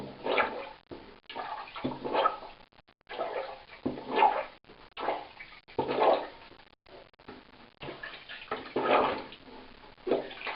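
Laundry being washed and wrung by hand in water, off grid, heard as a series of sloshing, splashing bursts with short pauses between them, close and fairly loud throughout, with no talk.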